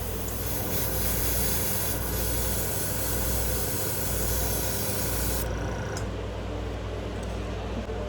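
An airbrush sprays thick opaque white crankbait paint onto a fishing lure. A continuous close hiss with a low compressor hum underneath cuts off partway through, leaving only the hum.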